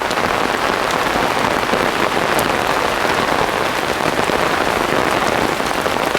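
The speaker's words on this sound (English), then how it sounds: "it's certainly bucketing it down now" Heavy rain pours down along a rail corridor north of Bukit Panjang, Singapore, a dense unbroken hiss of drops pattering on surfaces and an umbrella, steady and close with no voices.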